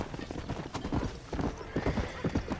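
Horse hooves clip-clopping steadily in Red Dead Redemption, a loud, close galloping rhythm with a brief whinny mixed in.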